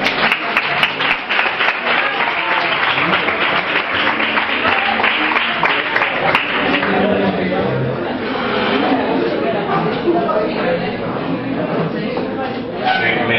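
An audience at a concert applauds with dense, loud clapping that thins into chatter and scattered claps, with voices talking underneath.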